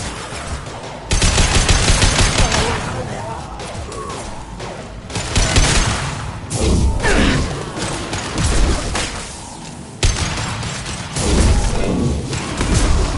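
Gunfire in a PS4 shooter video game, loud sustained bursts of automatic fire with heavy thumps and crashes, dense and continuous throughout with brief pauses between volleys.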